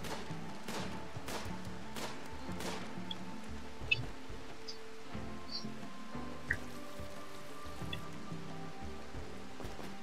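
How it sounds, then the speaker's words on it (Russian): Steady rain patters over a busy RimWorld soundscape, with occasional drips and small clicks over a low ambient drone. "Дождь и так-то падает"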